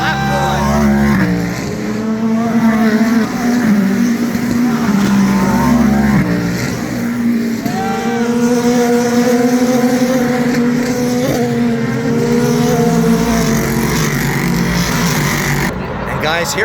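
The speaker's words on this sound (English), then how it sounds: "here comes the Cadillac. It is leading the GTP field through turn 10, lap 1" A Cadillac GTP prototype race car leads the field through turn 10 on the first lap of IMSA Petit Le Mans. A loud engine note rises and falls with gear changes, other cars follow close behind, and a commentator talks over the noise.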